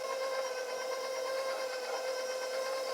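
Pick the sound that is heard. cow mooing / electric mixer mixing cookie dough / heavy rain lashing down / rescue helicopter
electric mixer mixing cookie dough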